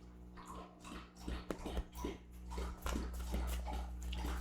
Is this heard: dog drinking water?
yes